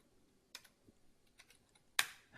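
A few scattered keystrokes on a computer keyboard while typing a Python command, with sharp isolated clicks and a louder final tap, quiet and close with no talking.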